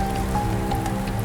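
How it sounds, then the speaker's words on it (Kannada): Heavy night rain pours steadily in a dense, continuous wash of drops, loud and close, with no voices over it. "ರಾತ್ರಿ ಮಳೆ ಭೀಕರವಾಗಿ ಸುರಿಯುತ್ತಿತ್ತು."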